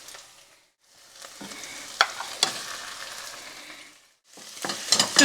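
Minced beef for Bolognese sauce sizzles and crackles in a hot saucepan while something stirs and scrapes it around, the frying rising and falling in short bursts.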